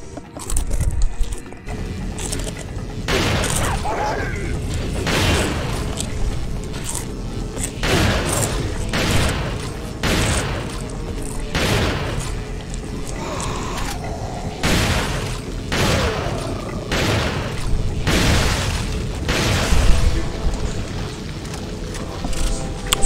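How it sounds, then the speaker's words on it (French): Shotgun gunfire in Resident Evil: a long series of loud, heavy blasts about every one to two seconds over a dense, rumbling game soundtrack. "Fusil à pompe, c'est parfait."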